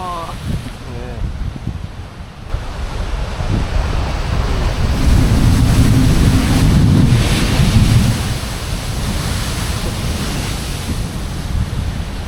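Rough ocean surf roars against the rocky Ningaloo coastline near Exmouth, a loud continuous rumble with a big wave surge building and crashing close by, wind buffeting the microphone throughout.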